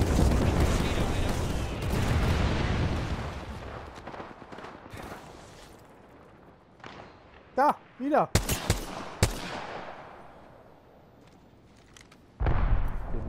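Bursts of gunfire from the Apex Legends video game crack out in sharp clusters, with a few close shots near the middle and a louder burst at the end, after a stretch of dense game noise and a brief spoken word.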